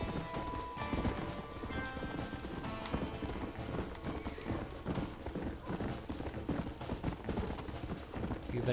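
Horse hooves gallop in a steady rapid clip-clop in the Red Dead Redemption video game on Xbox One, continuous and dense with game ambience throughout.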